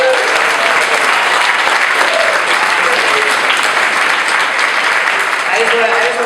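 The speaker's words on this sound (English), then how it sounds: "Give yourselves a round of applause." Audience applause at the Beaver Awards wildfire performance class ceremony, loud, dense and sustained clapping from a large crowd close by, with voices mixed into the noise.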